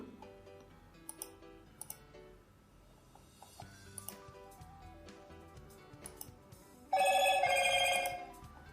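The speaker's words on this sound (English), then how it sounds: "So this notification is received with title message to specific device" An Android phone notification from Firebase Cloud Messaging chimes once near the end, a loud bright tonal alert that rises sharply over a quiet background of faint clicks and ticks.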